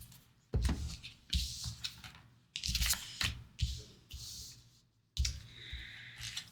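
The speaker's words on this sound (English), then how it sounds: "It's supposed to help with the sound when I shuffle the cards." Tarot cards are riffled and shuffled close by in several quick bursts, each a papery flutter of rapid clicks with short pauses between.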